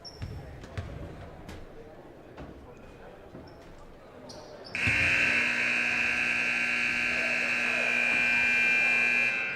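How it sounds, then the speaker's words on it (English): A basketball game's buzzer sounds a long, loud, steady electronic drone that holds to the end. Before it, sneaker squeaks and ball bounces echo around the gym while a commentator talks. "Buzzer sounds and we're ready."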